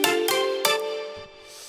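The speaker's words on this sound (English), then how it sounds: "that's pretty much the pluck sound" Bright synth pluck layered with a mallet and metallic white noise, two sharp ringing hits followed by a fading tonal tail and softer noisy ticks, close and clear, no voices.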